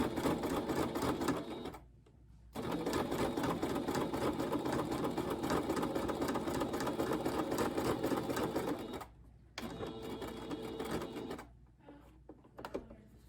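Sewing machine stitching thick folded towel fabric for a kitchen scarf, a fast steady mechanical whir in long runs broken by brief pauses, then shorter bursts near the end.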